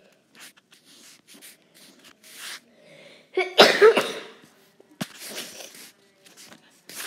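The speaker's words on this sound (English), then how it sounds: "had to sneeze there." A single sharp sneeze bursts out midway, loud and close, surrounded by quiet shuffling and small handling noises.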